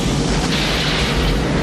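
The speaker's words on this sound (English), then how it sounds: "resulting in, of course, the place being blown sky high" A film explosion blowing a building sky high, a dense, loud roaring blast with deep rumble that fills the whole short moment without letting up.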